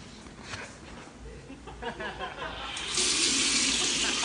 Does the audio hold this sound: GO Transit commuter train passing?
no